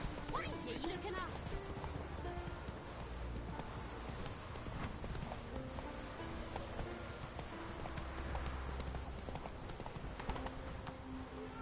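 Roach the horse galloping in The Witcher 3, rapid clip-clop hoofbeats running continuously under dense game ambience, with someone talking over the action.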